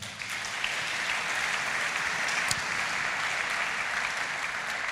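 A church congregation claps in sustained applause to acclaim the Lord, a dense, steady wash of many hands filling the room with no voices rising above it.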